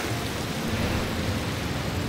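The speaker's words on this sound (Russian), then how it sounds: "Ой, дождь пошел." Steady broadband hiss of video game rain, continuous and fairly loud, with a low rumbling undertone and no voices.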